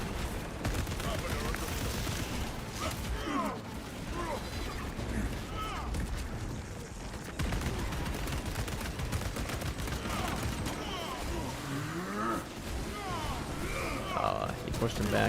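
Rapid video game gunfire crackles in dense bursts throughout a match, steady and mid-level, mixed with game effects and someone talking over it.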